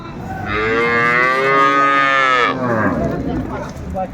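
A dairy cow at Ambari cattle market in Dinajpur gives one long, loud moo lasting about two seconds. Market murmur carries on faintly before and after it.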